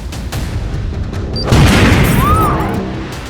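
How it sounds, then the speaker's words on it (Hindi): A bomb blast in a tractor sets off right as the engine is started, a loud broadband boom swelling at mid-clip over a rumbling background, with a brief high whistle-like tone trailing after. "ट्रैक्टर में ब्लास्ट।"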